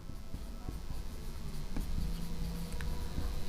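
Chalk or a pen scratches out handwriting during a math lesson in quiet, close strokes over a low background hum, with no speech.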